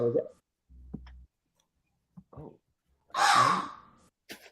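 A harsh, crow-like caw imitated by a human voice, loud and raspy, following a few scattered short noises and breaths.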